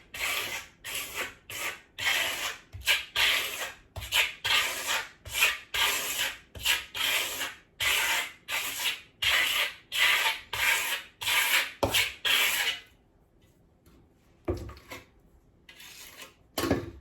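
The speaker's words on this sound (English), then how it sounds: "You want to trowel on really kind of tight." A trowel spreads faux quartz coating tightly across a surface in repeated rhythmic scraping strokes, close and fairly loud, then pauses briefly before a few final strokes.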